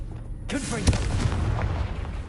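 Confringo blasting curse exploding in Hogwarts Legacy on PlayStation 5, a single sharp boom with a crackling fiery tail, close and loud, with a voice speaking just before it.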